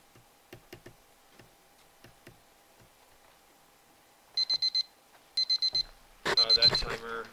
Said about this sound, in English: That timer is for anyone taking the quiz.